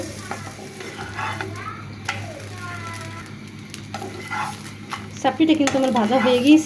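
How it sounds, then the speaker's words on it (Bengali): Spicy chapati, a flat savoury pancake, frying in a pan: a soft background sizzle runs throughout under scraping and stirring noises, with a dog barking and whining near the end. "সব কটা চাপটি আমি ঝাল চাপটি এভাবে ভেজে নিচ্ছি।"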